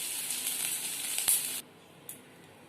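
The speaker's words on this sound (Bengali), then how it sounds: "আদাটাকে হালকা ভেজে ডালটাকে আমরা ঢেলে দেবো।" Moong dal lentils tipped into hot oil with lightly fried ginger, giving a loud steady sizzle that cuts off abruptly, followed by a brief faint clink.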